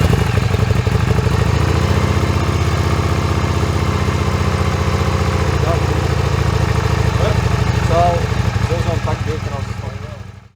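A Suzuki SV650X with an SC-Project exhaust and no dB killer idles close by, a steady deep, loping rumble that holds level and then fades out at the end.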